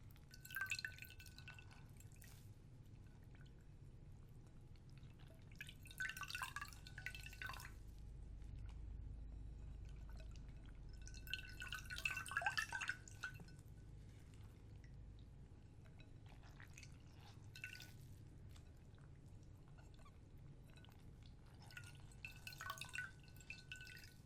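Water drips and splashes softly as something is dipped into a basin during a quiet personal-attention role play, with scattered clusters of small drips and trickles over a low hum, close and gentle.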